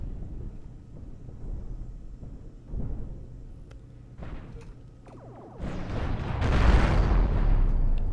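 Rumbling explosion on a spaceship hull in the space game Cosmoteer: low muffled rumbles and small pops that swell into a broad roaring blast near the end, with no talk.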